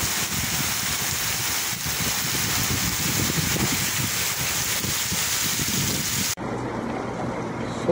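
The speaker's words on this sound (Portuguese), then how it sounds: "Boa chuva caindo agora." Steady rain pours down in the Brazilian sertão, a dense, even hiss that holds for several seconds before cutting abruptly to a quieter background.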